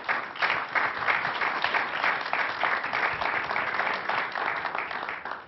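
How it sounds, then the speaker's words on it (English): Sustained applause from a live audience welcoming millennial Generation Y members, dense steady clapping for several seconds without talk. "giving our members of our Millennial Generation Y just a warm round of applause"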